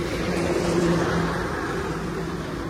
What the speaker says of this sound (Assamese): এইখনৰ ইঞ্জিন নইজটো শুনাম আপোনালোকক